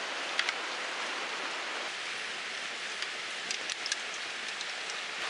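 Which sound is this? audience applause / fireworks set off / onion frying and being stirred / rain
rain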